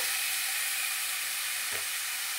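Onions frying in a pan for chicken curry, a steady soft high sizzle with one brief stirring scrape, faint and without voices.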